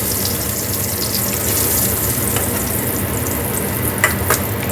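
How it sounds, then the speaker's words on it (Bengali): Boiled eggs fry lightly in oil in a home kitchen pan for egg biryani, giving a steady soft sizzle throughout with a couple of faint clinks near the end. "ডিমটাও ভাজা হয়ে গেছে, খুব বেশি ভাজবো না,"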